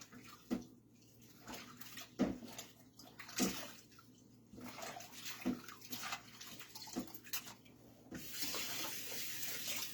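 Tap water runs into a sink while a small kitchen mixer part is washed, a steady splashing stream broken by sharper knocks and sloshes as the piece is rinsed close by.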